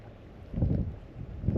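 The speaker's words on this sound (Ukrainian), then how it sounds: "Тут дме серйозно." Strong wind gusting over the Desna river during a spinning trip for zander, heard as a low, buffeting roar that swells and eases in waves against the microphone, with no talk.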